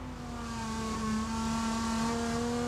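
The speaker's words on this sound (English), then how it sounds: "Larry Perkins just storming away, coming up on a whole bunch of cars" Race cars at the 1984 touring car race, including a Holden VK Commodore, roar at full throttle in a steady, loud, sustained engine drone with strong harmonic whine, accelerating with no pause.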